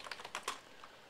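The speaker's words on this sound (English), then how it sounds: "I'm typing in another page here" Quick, light clicks of typing on a computer keyboard, a short burst of irregular keystrokes close by, soft and fading after the first half.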